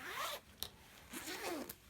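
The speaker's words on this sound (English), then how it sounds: "So now I need to open my zipper" A zipper on a handmade fabric pouch is drawn open in two quick rasping pulls, close and fairly quiet, with a small click between them.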